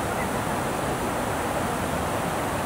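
Rhine Falls in Switzerland thunders as a dense, constant roar of rushing water, loud and close, filling the whole moment with broadband noise and no voices.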